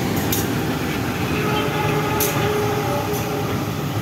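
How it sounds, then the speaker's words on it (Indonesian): A CC 203 diesel locomotive shunting, heard as a continuous loud engine rumble and rolling rail noise with a steady low drone and a few brief metallic squeaks or clicks. "Langsiran CC 203 9803 menuju Beleasa setelah menjalani uji rayon."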